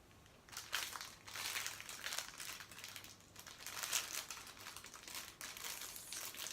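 Plastic packaging crinkles and crackles in irregular bursts as packages are handled and opened, close and fairly quiet, with no voices.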